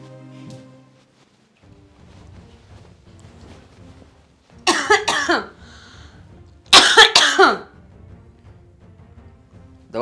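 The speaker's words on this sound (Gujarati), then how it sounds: "પણ ઉધરસ આવે છે તો ગરમ પાણી પી" Two loud, harsh coughing fits, each under a second, break a quiet indoor scene in a Gujarati family drama, with faint background noise between them.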